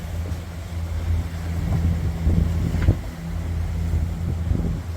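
A sailboat's engine motoring at sea on a passage from Lanzarote to Mindelo, Cape Verde, giving a steady low droning hum with wind noise over it and some faint knocks now and then.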